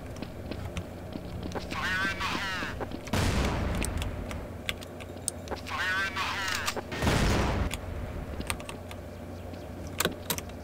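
In Counter-Strike: Source, AK-47 fire comes in rapid automatic bursts, with two longer volleys and scattered single cracks, while people talk during the shooting and keys clatter under it.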